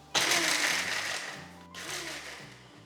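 Ginger, garlic and green chillies being crushed for a masala veg pulao: a sudden loud grinding whir that runs steadily, breaks off briefly, then restarts more softly, with gentle music beneath.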